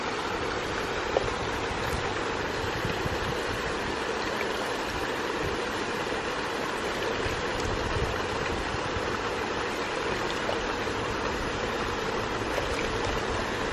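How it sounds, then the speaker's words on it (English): Water gushing steadily from the outlet of a ram pump, a dense continuous rushing roar that holds at an even level throughout with no pauses. "the pump is right down here, and here's the output. It's got a surge because of the inefficiency of the pump."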